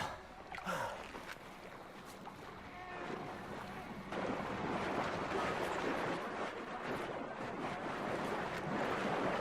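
Splashing and churning water in the video game Battlefield Hardline, a steady wash of wind-blown surf with a few brief splashes at first, then continuous rough water, fairly faint.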